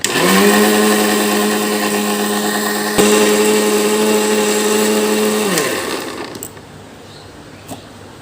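A mixer grinder whirs loudly and steadily for about six seconds as spices and water blend into paste, then winds down and stops, leaving near silence with a faint tap afterward.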